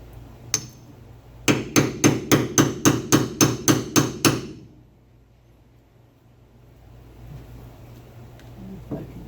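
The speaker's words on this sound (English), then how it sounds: "Let's see if I can pound this thing up here" Hammering a swing lever on a 1970 VW Bus: one early knock, then a run of about ten rapid, evenly spaced metallic hammer blows close by, followed by quiet workshop background.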